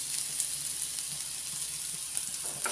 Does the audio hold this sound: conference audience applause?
no